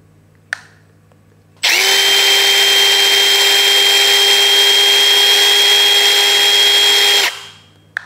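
A Milwaukee M12 Fuel Gen 3 brushless 12V impact driver runs at speed 2, around 2900 RPM, as a loud steady high-pitched motor whine lasting about six seconds, after a brief click and before it winds down.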